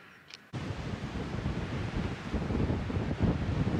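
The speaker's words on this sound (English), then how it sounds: "It's super windy" Strong wind roars across an open lava field, buffeting the microphone with a loud, continuous rumble that starts abruptly and stays steady without talk.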